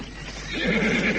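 A horse whinnies in a rising, wavering neigh, loud and close, lasting about a second and swelling toward the end, with faint hoof clatter beneath it.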